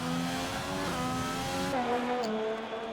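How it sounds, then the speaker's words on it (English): A Papaya Orange McLaren race car in a racing video game drones through a curve and chicane at Italy, its engine tone steady then shifting pitch as it downshifts, sustained and prominent. "We see the Papaya Orange McLaren of XRL Torpedo as he goes through the curve after the Retafilio and into the second chicane"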